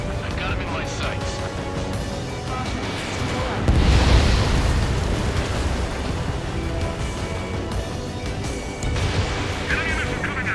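Missile explosions in the air-combat video game Ace Combat 7 boom heavily beneath a continuous roar of jet engines and game music, one large blast swelling in the middle of a dense, loud battle soundscape.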